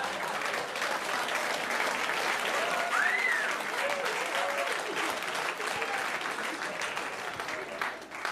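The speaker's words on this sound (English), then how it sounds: "You all just clapped for a dead baby." A stand-up comedy audience breaks into loud, sustained applause and clapping that fills the room, with a brief whistle and some speech underneath, before the clapping fades slightly.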